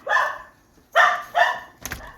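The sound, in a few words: dogs barking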